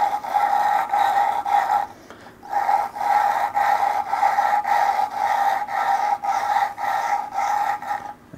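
A BMW M54 engine head's valve seat is hand-lapped with abrasive compound, producing a close, rhythmic back-and-forth grinding rub repeated about a dozen times with one brief pause.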